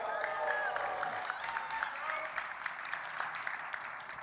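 A lively crowd at a Dassault Systèmes event applauds and murmurs at a moderate distance, steady clapping with scattered sharper claps across a few seconds.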